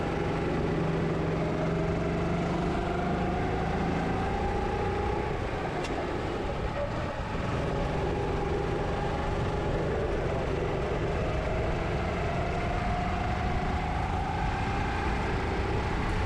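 A racing kart engine held at full throttle on a clear track in a league race, a loud, steady, continuous drone with slowly rising and falling pitch sweeps, heard alone with no talking.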